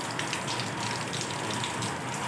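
Heavy rainwater pours steadily through a roof gutter during a downpour at a construction site, a dense, continuous, close rushing splash with no pauses.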